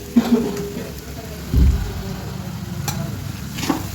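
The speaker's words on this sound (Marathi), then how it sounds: "आता ह्याला मिक्स करून घेते मी" Pav bhaji being stirred in a pan after garam masala is added, with a soft scraping, sizzling texture and a louder stir stroke midway, under faint background sounds.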